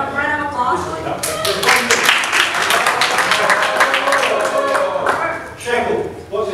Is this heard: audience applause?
yes